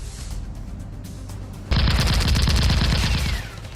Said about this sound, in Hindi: अपर गलीली में हिजबुल्लाह का रॉकेट अटैक कैमरे में कैद हुआ।